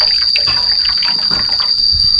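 Green pandan leaf juice strained and poured in a home kitchen, a continuous splashing, trickling wash of liquid close up over a high steady whine, with no talk.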